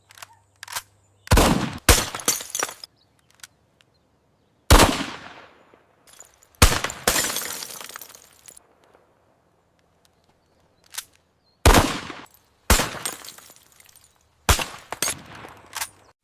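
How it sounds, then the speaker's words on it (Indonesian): Gunfire from an animated reenactment of the Battle of Surabaya: loud, sharp single shots and short bursts, some trailing off, separated by silent gaps. "Lalu arahkan ke target, bidik dan tembak."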